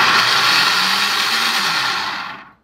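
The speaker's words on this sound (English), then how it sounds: "I took the beans in the soup mixture and put it in my blender and pureed it" A blender whirs loudly as it purees beans and soup mixture for slow cooker white chicken chili, a steady high motor roar that winds down and stops at the end.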